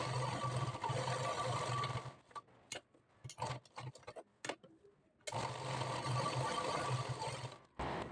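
A sewing machine stitches piping onto a blouse back neck in two steady whirring runs, with a quieter stretch of scattered handling taps and clicks between them.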